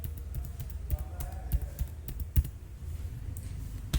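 Fingers type on a computer keyboard entering a mobile number, producing a steady run of quick, close key taps with a few sharper clacks over a low background hum.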